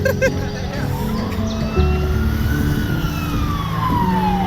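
An ambulance siren wails with a slowly sweeping pitch over heavy traffic rumble and engine noise during street protests in Nepal, fairly close and loud throughout.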